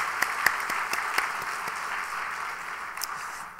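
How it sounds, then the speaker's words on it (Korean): A church congregation at a Sunday service claps to welcome newly registered members, a short burst of scattered hand claps over a sustained wash of applause that tapers off. "박수로 환영하시겠습니다"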